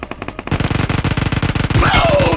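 Rapid automatic gunfire in PUBG Mobile on the Erangel map, loud and close, starting as a few spaced shots and then becoming a dense sustained burst that ends in a louder blast, with no talking.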